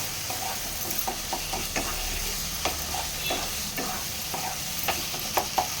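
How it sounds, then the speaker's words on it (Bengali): A banana flower and prawn curry with garam masala is stirred in a pan, a steady sizzle broken by repeated scraping and clacking of a spatula at an uneven rhythm. "এবার আমি একটুখানি আরেকটু নাড়াচাড়া দিয়ে 2 মিনিটের মতো ঢেকে দিয়ে আমি এটাকে নামিয়ে"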